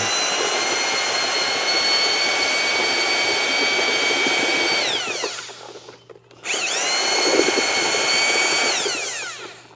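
A drill spinning a paddle mixer through wet concrete for a garden pathway whines at high speed, briefly winds down to a stop, then spins back up and runs steadily again, loud and close.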